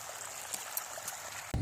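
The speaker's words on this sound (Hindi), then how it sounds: "देखो कितना मस्त पानी चला थे" River water flows beside a village field with a soft, steady hiss and trickle at moderate distance, then a sudden loud low thump cuts in at the very end.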